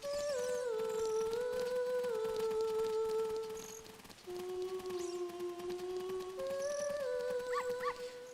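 Dog in a classic fantasy adventure game giving long, high, wavering whimpering whines, sustained and tonal, with a short break midway and faint background music.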